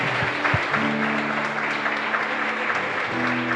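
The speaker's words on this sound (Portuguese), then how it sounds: "Você pode dar um forte aplauso ao Senhor por essas vidas?" Church congregation applauding during a pastor's service, a continuous wash of clapping with a sustained musical tone humming beneath it.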